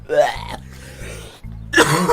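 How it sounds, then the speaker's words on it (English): Coughing and throat clearing from a man, a harsh burst at the start and another near the end, close and fairly loud, with a short gap of quieter background sound between them. "I apologise again for my coughing, but I can't help it."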